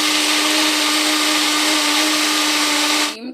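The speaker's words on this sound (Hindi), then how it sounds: "दूध डालेंगे, अब इन सारी चीज़ों को मिक्स करेंगे।" Kitchen blender whirring at full speed as it mixes milk and mango into a milkshake, a loud, steady, close motor drone that winds down at the very end, with no voices.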